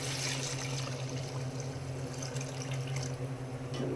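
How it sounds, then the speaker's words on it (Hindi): Steady stream of water pouring into a pot for boiling rice for chicken pulao, a continuous close rushing sound with a low resonant hum underneath, no voices. "इसमें पानी डालें।"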